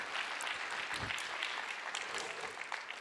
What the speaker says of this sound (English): How about a round of applause for Tony?